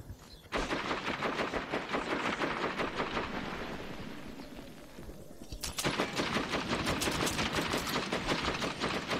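Enemy gunfire in the shooter game Metro 2033, a dense stream of rapid shots and bursts aimed at the player, loud and steady for about nine seconds, easing slightly midway before a louder volley resumes.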